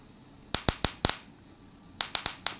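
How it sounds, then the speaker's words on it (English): A 25 kV ESD gun sends electrostatic arcs across an air gap of about 15 millimetres to a nearby ground wire. Two bursts of four sharp, loud snapping cracks come in quick rhythm, close up, with a short pause between bursts and no talking. "I've borrowed an ESD gun and I've set it to 25 kilovolts, and I'll bring a ground wire close so that the arcs start jumping."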